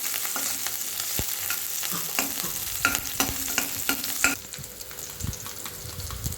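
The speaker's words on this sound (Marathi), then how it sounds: "त्याच्यामध्ये मिरच्या टाकूया आपण मिरच्या छान परतून घेऊया" Green chillies sautéing in a pan, a steady sizzle broken by frequent clicking stirs and scrapes of a utensil, with the frying easing and quieting toward the end.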